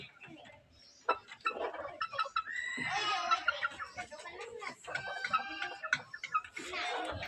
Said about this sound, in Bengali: এই যে আমাদের মুরগি